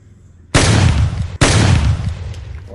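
Two loud, close blasts from grenades and gunfire in a first-person shooter, each striking suddenly and rumbling on with a long tail, the second hitting just under a second after the first.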